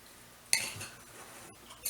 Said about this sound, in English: Stir it all up